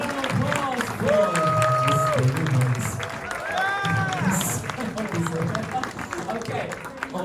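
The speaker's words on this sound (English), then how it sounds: "And then a huge round of applause for" Wedding guests applaud and cheer after a toast to the bride and groom, steady clapping mixed with whoops and whistles under loud overlapping voices from a crowded reception room.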